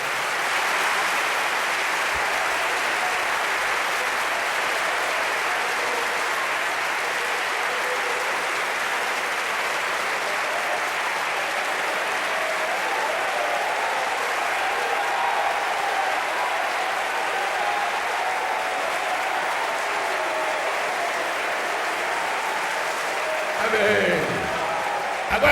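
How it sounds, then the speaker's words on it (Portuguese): Sustained applause fills a church service as the congregation claps for a long, unbroken stretch, loud and even throughout, with a brief disturbance near the end. "Nós estamos aplaudindo o Senhor Jesus."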